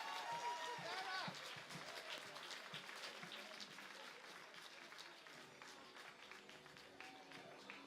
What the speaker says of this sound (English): along with this thunderous round of applause